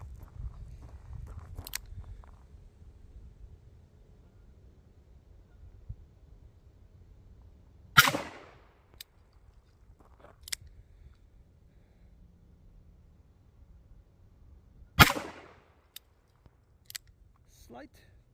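Two sharp revolver shots from a Smith and Wesson 10-10 bull barrel firing heavy bullets at a range, spaced about seven seconds apart, loud and close over low background rumble, with small clicks between.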